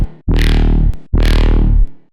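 Two long, distorted wub bass synth notes played through a convolution reverb, each thick and buzzing with a rising, sweeping growl. They are loud and separated by a short gap, and each cuts off with a brief tail.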